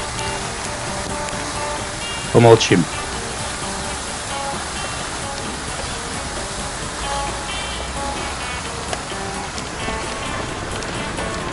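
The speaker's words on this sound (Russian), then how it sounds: "Мы с вами наслаждаемся водой. Водопадом." Waterfall in the city of Rishon LeZion, a steady broadband rush of falling water continuing throughout, with a brief louder burst near the start and a single short spoken word.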